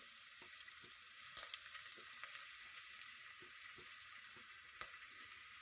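Steady, faint sizzling of ginger in hot oil with occasional sharp pops and crackles, no voices.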